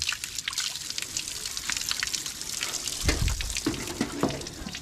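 Cold spring water runs and splashes steadily from a pipe on Mount Arayat, a constant close trickle with a few louder gurgles partway through. No voices.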